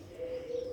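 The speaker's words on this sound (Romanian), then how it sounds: "e plin de porumbei" A single soft pigeon coo sounds close by inside an abandoned building, brief and alone against quiet background noise.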